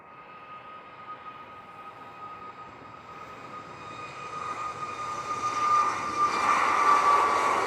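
An airliner powers up for takeoff on runway 07 at Norman Manley International Airport in Jamaica, its broad engine roar steadily swelling and growing louder over several seconds, with a sustained whine riding above the rumble.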